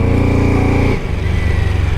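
A BMW F 450 GS adventure motorcycle engine, loaded with luggage, revs loud and close with a strong harmonic drone that drops abruptly midway, then settles into a rougher, pulsing lower idle.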